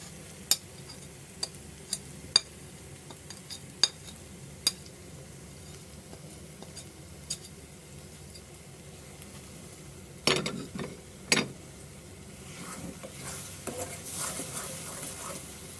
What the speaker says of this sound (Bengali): এখন এটাকে ততক্ষণ নাড়তে হবে যতক্ষণ এটা শুকিয়ে না আসে